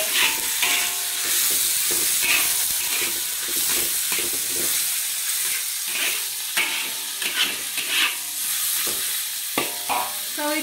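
Pig tongue stir-fries in a hot wok, with loud, close sizzling broken by repeated scraping strokes of a spatula as the pieces are tossed in a rhythmic pattern.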